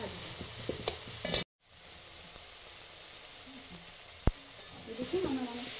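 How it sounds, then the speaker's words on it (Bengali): Chopped tomatoes fry in a pan with a steady hiss that cuts out briefly and then resumes, with a single sharp clink partway through. "আমি টমেটো কুচি করে রেখেছি। এরপর এটা একটু সময়ের জন্য আমি ভাজি।"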